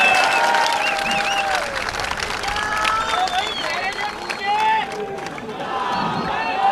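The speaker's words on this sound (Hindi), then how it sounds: "तो एक जोरदार तालियां अपने खुद के लिए बजा दीजिएगा मेरे" A large crowd at an open-air political rally in the rain cheers and claps at length, a dense, loud wash of applause mixed with whistles and shouting voices throughout.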